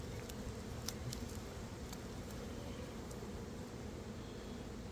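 Honeybees swarm an open hive during an inspection, their low, continuous buzzing a faint, steady drone with a few brief higher flicks of nearby wings, and nobody speaks.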